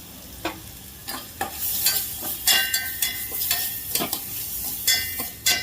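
Spices crackle and sizzle in hot tempering oil while being stirred, with sharp popping bursts repeating over a steady frying hiss, close and moderately loud, for a yogurt tempering in a stuffed kantola bhajiya recipe.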